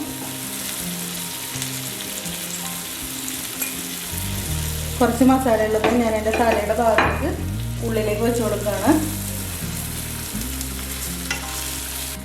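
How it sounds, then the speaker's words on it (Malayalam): Milkfish head and tail pieces shallow-frying in hot oil, home style, with a steady close sizzle and the occasional stir; a person talks over the middle stretch while soft tonal background music plays underneath. "ഇനി ഞാൻ അടുത്ത വറുക്കാനുള്ളതും കൂടി ഇടട്ടെ കേട്ടോ"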